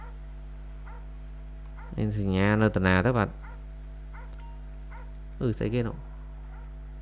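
A dog barking in GTA 5, a cluster of loud, close barks followed by a second shorter burst a few seconds later, over a steady electronic hum, with a person talking in between.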